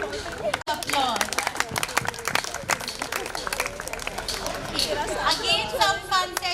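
Parents and children clapping and cheering at an outdoor kids' sports day race at a sports complex, scattered claps mixed with lively crowd chatter and excited voices throughout.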